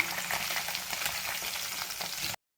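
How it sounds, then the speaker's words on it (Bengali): Fish frying in a pan gives a continuous hissing sizzle with small crackles, fairly close, then cuts abruptly to silence at the end. "মাছ ভাজা বসিয়ে দিয়েছি,"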